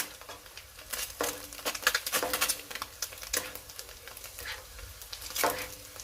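A century egg fries in hot oil while oil is spooned over it. Irregular crackling and spattering pops rise and fall throughout, close and fairly loud, with no talking.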